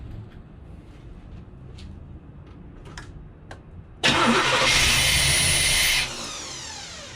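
A 1988 Camaro IROC-Z cranks after a few faint clicks, then fires into a loud roar for about two seconds before settling to a steady idle.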